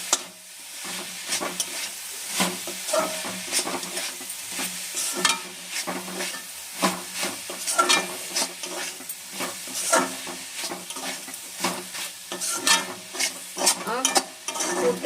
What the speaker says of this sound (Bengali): ভালো করে একটু নেড়ে নেবো দুধটা দিয়ে